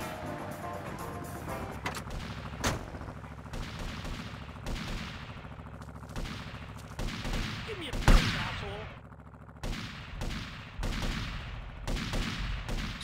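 A shootout in GTA Vice City crackles with scattered gunshots and short bursts of fire, sharp cracks spaced irregularly over a steady game background, with one heavier blast near the middle.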